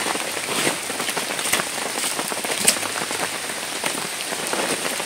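Heavy rain pours steadily on a busy campsite, a dense, even hiss with scattered sharper drops landing nearby and no voices.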